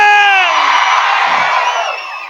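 At a live comedy show, an audience erupts in loud whoops and shouts from many voices at once, sustained for about two seconds before tapering off.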